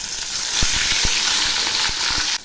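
Fish frying in hot, lightly salted oil in a kadai, a loud, dense, steady sizzle close up, with a few soft knocks and taps from the pan underneath and no talking.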